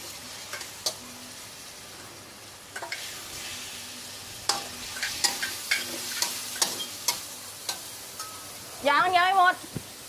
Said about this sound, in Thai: เทเนื้อลงไปเลย